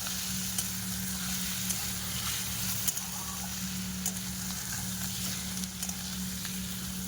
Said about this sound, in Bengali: মাছের তেলটা তেলও বেরোবে, আর মাছের তেলও ভাজা হবে, আর সব কিছু ভালো করে ভাজা হয়ে যাবে